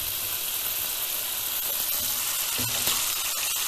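Steady, loud sizzling of cherry tomatoes frying in a pan for penne pasta, with a few soft pops as they burst open.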